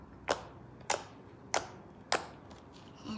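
Stretchy homemade slime made with instant snow and blue food colouring gives four sharp, close clicks about half a second apart as it is squeezed and stretched, with a softer fifth click at the end.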